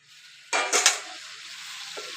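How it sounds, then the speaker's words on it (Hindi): Pumpkin pieces hit a pan of fried spices with a sudden loud sizzle and clatter, then settle into a steady, quieter frying hiss close by. "अब मैं डालती हूँ कद्दू"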